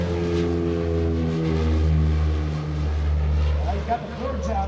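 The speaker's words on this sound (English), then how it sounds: "Here he comes by on another dirty pass. Joe Masessa, the OV-1 Mohawk." A Grumman OV-1 Mohawk makes a low dirty pass with speed brakes out at the 2016 Greenwood Lake Airshow. The engine drone is loud and steady, with a strong humming tone throughout and a voice talking over it.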